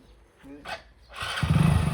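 A new motorcycle's engine fires up into a loud, close, throbbing rumble after a brief voice and a short mechanical clatter, then holds steady to the end.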